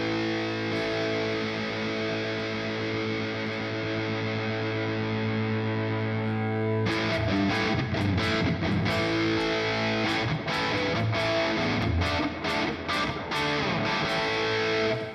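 An electric guitar plays through a NUX MG50Li amplifier with hall reverb, starting with sustained ringing chords and moving into choppy, rhythmic strummed strikes that carry a distorted, spacious tone, with no talk.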